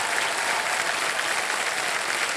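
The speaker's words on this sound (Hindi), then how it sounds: "तालियां बज जाए इनके लिए" Studio audience applause on a TV quiz show, KBC, for a contestant who has won prize money, a continuous, even wash of clapping from many hands.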